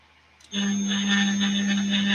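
A 3D printer runs steadily while printing a dual-color candy bowl in a garage, a sustained motor whine with a strong low hum starting abruptly after a brief quiet moment and continuing evenly.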